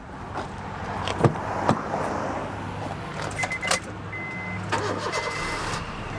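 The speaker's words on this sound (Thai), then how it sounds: "เดี๋ยวผมขออนุญาตสตาร์ทเครื่องให้ดูนะครับ" A 2011 Honda City 1.5V sedan starting up, with a brief jingle of keys, the starter cranking and the engine catching into a low, steady idle close by.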